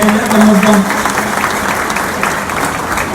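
Applause from the audience at a pigeon-racing champion trophy award ceremony, a steady dense clapping that carries through the whole stretch, with a voice briefly audible over it at the start.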